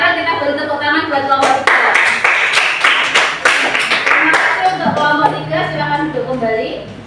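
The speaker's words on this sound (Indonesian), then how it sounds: "sekarang kita beri tepuk tangan buat kelompok 3" Students in a classroom clap for a group that has just presented, a dense burst of hand claps in the middle that thins out toward the end, with voices talking over it throughout.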